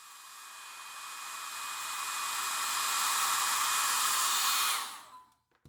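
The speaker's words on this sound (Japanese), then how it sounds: "ドライヤーも駆使します。" A hair dryer blows steadily on 1/20 scale model F1 car wheels for a Fujimi Williams FW16 kit, a loud continuous whooshing that swells slightly and then cuts off abruptly near the end.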